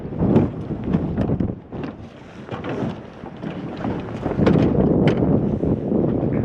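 Strong wind buffets the microphone on a fishing boat out on open water, a loud, steady rushing roar with gusty swells throughout and no talking.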